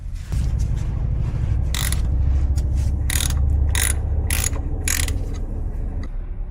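A 3/8 ratchet works the rear differential fill plug on a Ram 1500 TRX, clicking in several quick bursts over a low steady hum, close and loud, with no talk.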